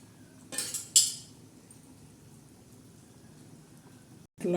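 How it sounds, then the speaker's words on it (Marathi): A metal lid is set down on a pan of surmai fish curry, giving two quick clinks close together near the start, followed by a low simmering hush and a final brief clatter. "आता याच्यावर झाकण ठेवणार आहोत आपण"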